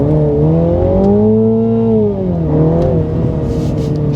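A MINI GP3 accelerates hard in a torque steer test, its engine note climbing steadily, dipping briefly as it shifts, then rising again, loud and close from inside the car.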